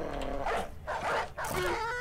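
A dog in the video game Battle Brothers lets out a few short barks and yips within a couple of seconds, close and moderately loud.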